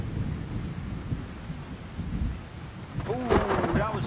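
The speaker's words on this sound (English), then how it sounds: "Well, it's a thunderstorm," Thunderstorm in the fishing game Cove: steady rain hiss with low rolling thunder throughout, swelling into a louder crack near the end, heard alone with no talk.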